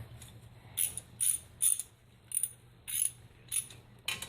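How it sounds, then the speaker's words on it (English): A 12mm socket wrench ratchets off the brake caliper bolts on a 2005 Ford Taurus with a V6, giving about eight quick, close clicking bursts in a steady rhythm against a quiet background. "it takes a 12mm socket to take these off"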